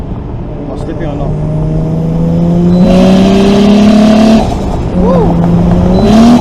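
Engine of a Toyota JZX100 with a slipping clutch revs up close and loud, its pitch climbing steadily, dropping briefly, then rising again. Someone shouts over it.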